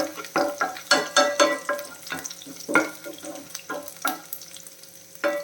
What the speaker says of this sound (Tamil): இப்போ கட் பண்ணி வச்சுக்கூடிய பூண்டை சேர்த்துடலாம் கொஞ்சமாக வதங்கட்டும்